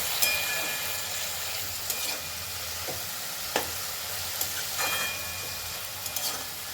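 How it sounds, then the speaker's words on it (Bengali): Radish greens being stirred and fried in a pan after salt goes in, a steady sizzle broken by several sharp scraping clicks of the spoon against the pan, close and moderately loud with no talking. "লবণটা দেওয়ার পরও আর একটু নাড়াচাড়া করে নিচ্ছি"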